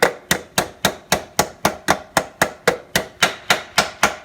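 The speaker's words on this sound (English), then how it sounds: "So using a copper hammer, we just tap that down." Sharp metallic taps from a copper hammer seating a steering head bearing on a Honda NBC110 Super Cub, landing in a steady, even rhythm, about three per second, close and clear with no talking.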